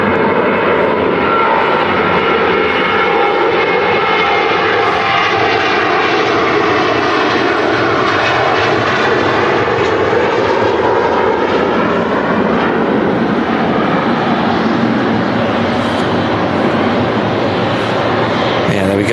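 A Qatar airliner taxis past at Manchester Airport, its jet engines giving a loud, steady whine and roar that holds close and constant throughout, with no voices.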